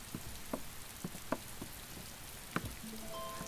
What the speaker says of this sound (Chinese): 下雨了，我来接你。